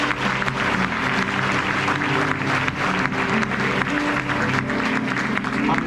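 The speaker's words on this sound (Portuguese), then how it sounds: "Vamos aplaudir o Senhor." A church congregation claps together in a dense, continuous burst of applause that holds steady throughout, with a low hum of voices and music underneath.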